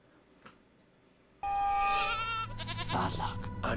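A goat bleats in a drama scene, a sustained wavering cry that starts abruptly after near silence and stays loud and close, with a second burst of bleating near the end.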